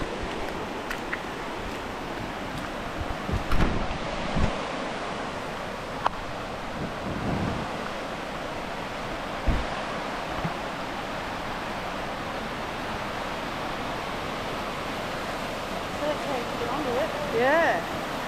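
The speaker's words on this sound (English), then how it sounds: "the water's running too quick today, so it's too dangerous" Fast-running water at a waterfall's natural water slides, a steady broadband rush with wind buffeting the microphone and a few brief knocks.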